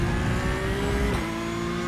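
A Toyota GR86 race car in the iRacing sim holds a steady engine drone with a slight pitch drop partway through, loud and continuous.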